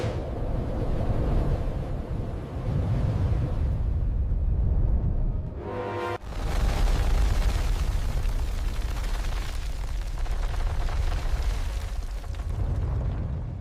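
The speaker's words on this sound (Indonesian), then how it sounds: "Ia meledak di atas lembah Urakami." The Fat Man atomic bomb explodes over the Urakami valley at Nagasaki, heard as a deep, sustained roaring rumble that swells after a brief sharp break and carries on loud and heavy.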